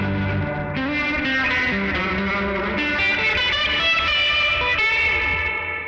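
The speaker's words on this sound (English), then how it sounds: "It gets a lot more muddy because the drive is going after the reverb" Electric guitar chords played through heavy effects with the drive placed after the reverb, a murky, saturated wash of distortion with phaser swirl and reverb tails blurring together, steady and loud throughout.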